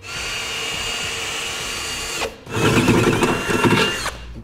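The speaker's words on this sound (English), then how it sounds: "we're going to go ahead and drill out a pilot hole" A power drill bores a pilot hole in a Ram truck bed for a Curt fifth wheel installation kit, whirring steadily at close range, pausing briefly, then grinding louder as it bites into metal.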